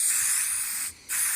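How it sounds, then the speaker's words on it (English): K&N air filter oil hisses from an aerosol can onto the fins of a K&N air filter in a steady, close spray, broken by one brief pause before resuming. "just start by spraying on top of each of the fins of the filter, like you spray painting"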